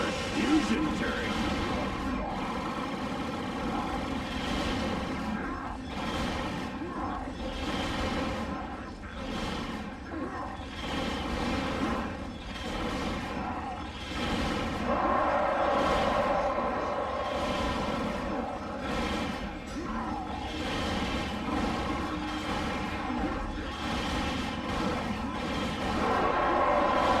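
In Ratchet & Clank: A Crack in Time on PS3, a Buller's fusion turret fires a steady stream of booming, repeated blasts throughout. Other battle noise runs under the shots, and voices talk over the gunfire.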